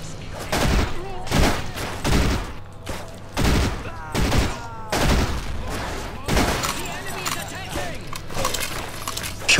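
Rapid gunfire crackles in repeated bursts through a combat scene in the video game Necrovision, with echoing shots and a steady low hum underneath.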